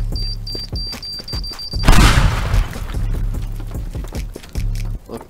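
A time bomb explodes in a video game with a loud, close boom and a rushing burst of debris. Game sound effects tick and thump around it, and no voices are heard.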